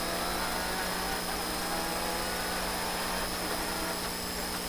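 A Citroën DS3 rally car's engine drones steadily and loudly from inside the cabin at speed, with a constant broadband roar and tonal whine throughout and no talk.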